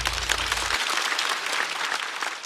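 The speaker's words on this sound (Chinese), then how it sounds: "再次掌声送给高寒。" A talk-show audience at a stand-up comedy competition breaks into continuous, dense applause, steady and full throughout, with a brief low hum at the start and no voices over it.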